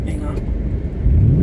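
A car passing under an overpass gives a loud, close low road rumble with engine drone, rising toward the end as the pitch climbs, and a voice partly over it.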